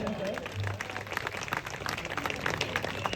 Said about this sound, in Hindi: अतिथियों के स्वागत में तालियों में कमी नहीं होनी चाहिए, तालियां बजती रहनी चाहिए